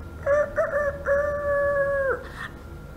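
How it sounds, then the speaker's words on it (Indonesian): A rooster crows once in a long, drawn-out call that holds steady before breaking off, fairly close and clear over a quiet background. "Tiba-tiba pada saat ayam berkokok,"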